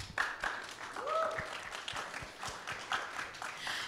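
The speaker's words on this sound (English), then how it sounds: "So give a round of applause to Mike" Light applause from a conference audience welcoming a speaker at a payments industry event, soft and somewhat distant, with faint voices and tonal chatter mixed in among the claps.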